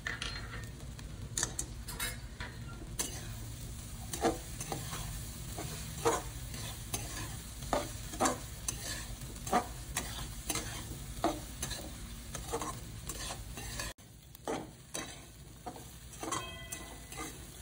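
Washed puffed rice, coriander and salt are stir-fried in a pan for a Marathwada-style sushila, with frequent rhythmic spatula scrapes and clinks over a soft background sizzle, close and steady, briefly dropping quieter near the end.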